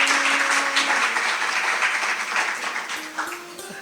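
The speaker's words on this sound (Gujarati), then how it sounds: "એકવાર એ પરિવાર માટે જોરદાર તાળીઓ થઈ જાય" An audience at a religious discourse gathering claps for a family, a full, steady wash of applause that thins slightly toward the end.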